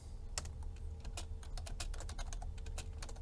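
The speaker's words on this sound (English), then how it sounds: "and then just start typing" Typing on a computer keyboard: a steady run of sharp, closely spaced key clicks with an uneven rhythm, close and fairly quiet over a low background hum, no talking.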